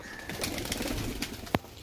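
Pigeons kept in a breeding cage setup give soft, low cooing calls close by, a few brief murmuring coos with a faint rustle, and no talking.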